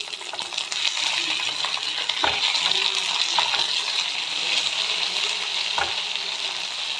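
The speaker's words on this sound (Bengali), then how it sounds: "এবার একটু ভালো মতন ভেজে নেব।" Green beans fry in a pan with a constant bright sizzle, a couple of sharp metallic clinks and scraping stirs cutting through, heard up close without speech.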